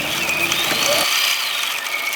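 A sewing machine stitches closed the open section of a fabric e-reader sleeve's lining seam, giving a steady close whirring drone with a brief lower rumble at the start, with no talk.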